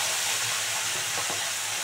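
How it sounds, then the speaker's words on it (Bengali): Bata fish, each one full of roe, frying in hot oil in a pan, a steady hiss of sizzling oil, fairly quiet and continuous with faint scraping underneath. "এই যে এবার দিয়ে দিচ্ছি মাছগুলো, একদম কড়া করে ভেজে নেবো"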